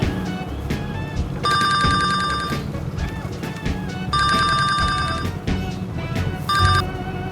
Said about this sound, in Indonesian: handphonenya bunyi.